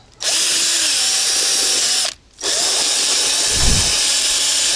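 A power drill spins continuously to scale perch outdoors in a yard at its second speed, a steady loud whine that cuts out briefly midway before resuming, with a low thump near the end.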